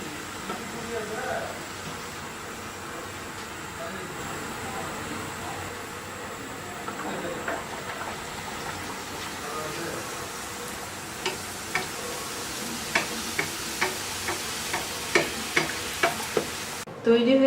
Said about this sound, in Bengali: আমার তেলটা গরম হয়ে গিয়েছে। আমি এখন লুচিগুলো দিয়ে দেব।